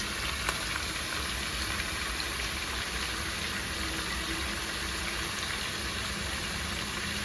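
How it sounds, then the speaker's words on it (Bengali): Chicken pieces with salt and spice paste fry in a hot pan to cook off their water, giving a loud, steady, dense sizzle that continues unbroken with no voices. "মাংসটা ভাজছি বন্ধুরা, কেন মাংস ভিতরে যে জলটা থাকে সেই জলটা শুকাবো।"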